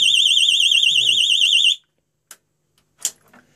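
A vibration alarm on a homemade aluminium tool box blares a loud, warbling electronic siren for under two seconds, then cuts out, followed by a couple of sharp knocks and handling sounds.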